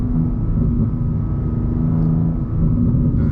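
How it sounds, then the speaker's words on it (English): BMW M2 G87 engine heard from inside the car during smooth downshifts: a loud, steady, close low rumble with a constant droning hum and no clear revving spikes, continuous throughout with no talking. "Nice and smooth downshifts."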